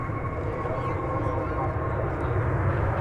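Finnair Airbus A350-900 jet airliner lining up for takeoff at DFW Airport, a constant broad engine roar and rumble heard from a distance, steady throughout with no speech.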